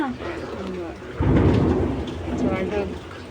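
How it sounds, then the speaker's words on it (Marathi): A deep roll of thunder breaks out and rumbles on over steady heavy rain, fairly loud and close, with a voice briefly heard at the start. "गडगडतात"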